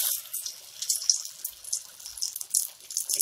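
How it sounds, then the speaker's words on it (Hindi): Balls of aloo-bread-paneer pakora batter drop into hot oil, raising a steady bright sizzle and hiss that swells and eases over a few seconds, close up with no voices. "चम्मच से ही एक-एक बॉल को तेल में छोड़ देंगे"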